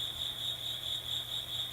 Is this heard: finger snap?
no